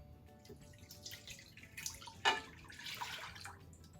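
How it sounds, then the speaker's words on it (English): Whole milk poured into a large pot on a stovetop, a soft liquid splash and trickle, quiet and close, lasting a few seconds with no talk. "We're going to add in 2 cups of whole milk"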